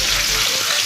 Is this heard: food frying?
yes